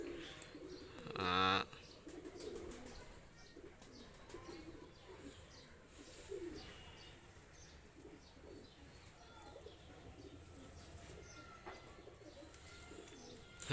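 Pakistani high flyer pigeons, a pair of running birds, coo softly and intermittently in a close, steady ambient scene, with a brief louder burst of sound early on.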